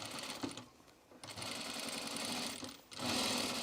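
A sewing machine stitches along the edge of a blazer in short bursts, its quiet rapid motor whirring close by, stopping briefly between runs.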